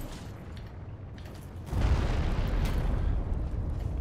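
Arrows exploding in the video game Dark Souls 3 in a snowy area: a low rumbling burst that swells abruptly and lingers, over steady game ambience.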